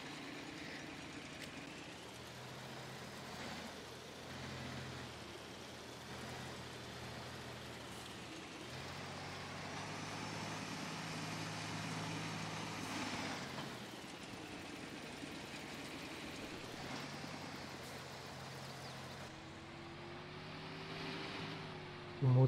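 Т-150 tractor engine in Farming Simulator 22 drones steadily at a low, even hum, idling and running throughout with slight swells in pitch and no talk over it.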